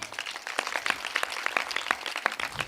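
A congregation at a Christian gospel meeting claps steadily, with sharp, rhythmic hand strikes repeating in a dense, even pulse at moderate volume.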